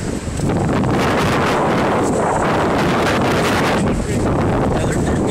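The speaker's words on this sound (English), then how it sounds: "Those are great winds." Strong wind roars across a cold beach and buffets the microphone in loud, continuous gusts that fill the whole stretch.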